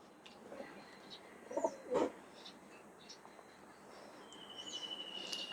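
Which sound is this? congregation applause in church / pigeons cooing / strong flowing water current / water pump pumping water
pigeons cooing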